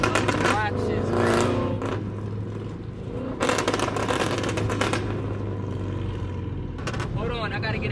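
A loud, tuned Dodge Charger R/T rumbles with a deep, steady idle that swells briefly, close by, while people talk over it.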